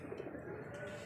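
White-eyed pigeons coo softly and close by, a brief, low, rolling murmur, faint against a quiet background.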